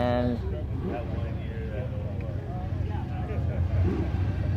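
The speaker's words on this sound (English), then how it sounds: "We hear some revving up from the top of the hill." Cars revving at the top of a hill at a gravity drag race, a low, steady engine rumble running throughout beneath a crowd and a voice talking.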